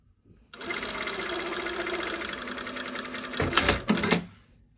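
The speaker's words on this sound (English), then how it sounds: "My sewing machine talks to you." Close sewing machine stitching a bias bound seam at a steady even hum, running continuously, then a brief louder burst of rattling near the end before it winds down.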